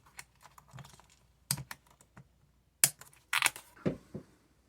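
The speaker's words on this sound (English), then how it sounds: "Cut my straps." Plastic straps on an RC car body are snipped one after another, making sharp, close clicks and crunchy cuts scattered between quiet gaps, with no one talking.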